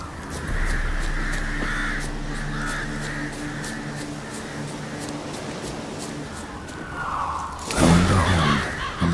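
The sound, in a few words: ravens cawing in The Witcher 3 video game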